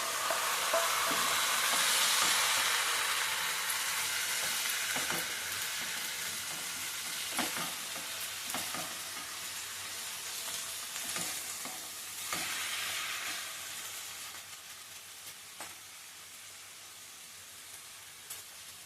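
Tomatoes fry with onions and turmeric in a pan for a tomato, fenugreek leaf and egg curry, a steady close sizzle with intermittent stirring scrapes and spoon taps that gradually softens, with no talk.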